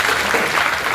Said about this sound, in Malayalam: എല്ലാവരും കൈയടി അടിക്കൂ.